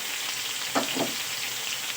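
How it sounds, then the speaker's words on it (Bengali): Potatoes frying in oil left over from frying fish, a constant close sizzle with two brief stirring scrapes partway through and no voices. "ওই মাছ ভাজা তেলের মধ্যেই আমি আলুগুলো ভেজে নেব"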